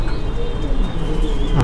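Several domestic pigeons, including ring-banded Danish and Magpie breeds, coo steadily and fairly loudly in a loft, a continuous layered murmur with no voices over it.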